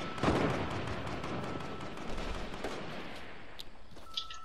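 Video game gunfire in a busy battle, a dense continuous roar of shots and blasts with a few sharper cracks near the end, moderately loud with no talk.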